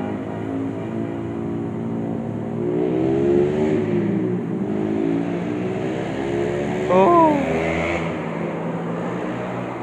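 Motorbikes revving past in city traffic at a red light, rising and falling engine whines sweeping by at close range, with a brief exclamation.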